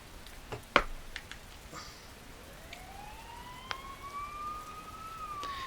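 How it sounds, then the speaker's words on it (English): A police siren in the video game Persona 4 rises in a faint, drawn-out sweep beneath soft background hiss, with a few scattered clicks before it. "You hear sirens nearby."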